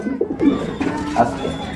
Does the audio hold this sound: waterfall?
no